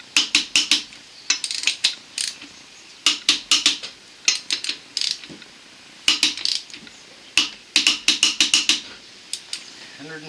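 Ratchet turning a 19 mm socket on a front sway bar link of a 2008–2013 Chevrolet Malibu, close and loud, clicking in quick bursts of several strokes with short pauses between them.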